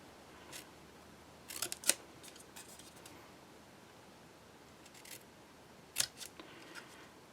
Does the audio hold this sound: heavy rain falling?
no